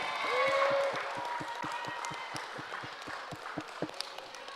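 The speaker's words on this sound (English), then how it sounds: "a big round of applause for all the families" At a certificate presentation honoring athletes, the crowd gives a round of applause for the families, with steady, evenly spaced claps under a voice at the start and continuing softly on their own.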